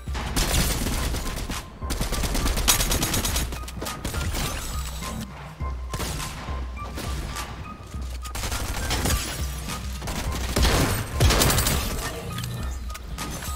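Rapid heavy shotgun blasts and other gunfire in a video game arena match, loud and nearly continuous, with crashes and impacts layered throughout and almost no pause.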